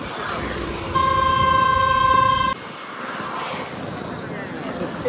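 A vehicle horn blares loudly for over a second, then road traffic rushes past on a rainy-weather road near the Krishna and Panchganga rivers at Narsobawadi, with a voice talking over the passing cars.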